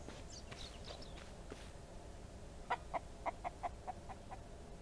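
A chicken in the survival video game Mist Survival gives a few soft vocal calls, then a quick series of sharp, close clucks in an uneven rhythm against quiet ambience.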